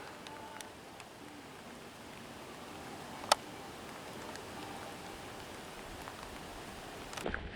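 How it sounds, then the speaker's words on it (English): Steady rain patters around a waterfall hiking trail near Sogamoso, Boyacá, Colombia, a soft continuous hiss with one sharp nearby tick midway and light rustling near the end. "looks like we're gonna walk back in the rain"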